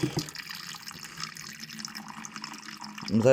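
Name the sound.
water running from a tap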